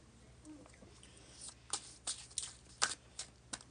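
A deck of tarot cards is shuffled close up, soft riffling and papery slaps coming in several quick bursts after a quiet start.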